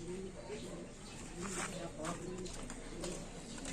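Stock pigeons at a bird auction handover in Batangas coo softly with low, repeated calls, faint and partly masked by nearby people talking over steady background noise.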